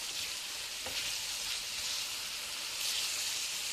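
Onions frying with salt are stirred in a pan, a continuous close sizzle and hiss with a faint scrape of the spoon partway through, no voices.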